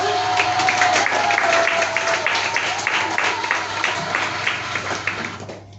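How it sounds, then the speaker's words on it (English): Theatre audience applauding during a newspaper-theatre performance in Greece, steady dense clapping throughout, with a brief tonal whistle early on and murmured voices underneath. "Applause!"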